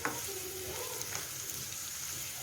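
Carrots fry in oil in a pan, a steady, fairly quiet sizzle with a few faint utensil clicks and scrapes throughout.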